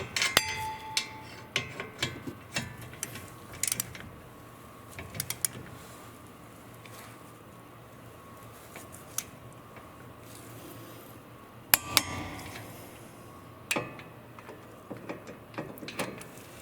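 Torque wrench tightening the front brake caliper bolts on a fifth-generation Toyota RAV4, heard as quiet, scattered ratcheting clicks and brief mechanical taps in a workshop, with faint background hum and no talking.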